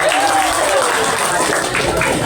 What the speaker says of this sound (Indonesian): Tepuk tangan dulu buat Bang Ari